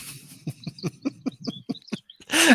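Birds chirp outside in a series of short, regular calls, moderately close and fairly clear, with no talking over them and a brief rustle at the end.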